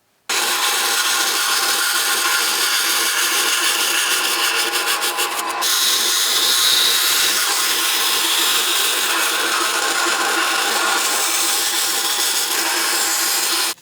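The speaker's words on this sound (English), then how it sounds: "cutting that on the bandsaw separated the super glue on that" A bandsaw cuts through steel knife blanks glued together with super glue for a slip joint folding knife, a steady loud grinding hiss that runs without a break for the whole stretch.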